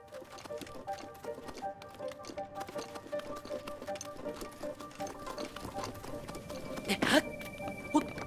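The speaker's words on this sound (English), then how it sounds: "there's horses now" In The Legend of Zelda: Breath of the Wild, horse hooves clip-clop in a quick, uneven patter at low volume, with a brighter chime-like blip standing out near the end.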